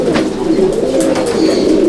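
Pigeons in a loft, a Pilanka hen and a red male, coo in a loud, continuous, rolling drone close by, with no talk over it.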